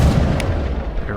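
A sniper rifle fires in the video game Mass Effect Legendary Edition, a single loud booming shot with a heavy low rumble that fills the short moment, with no talk over it.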